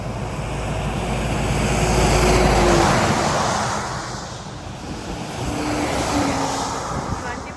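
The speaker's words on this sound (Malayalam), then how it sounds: "ട്രക്സ് മാത്രമേ ഇടയ്ക്ക് പോകുന്നു." A truck passes on a wet, rainy road at night, its rushing whoosh swelling to a peak and fading, followed by a second, softer pass amid wind noise.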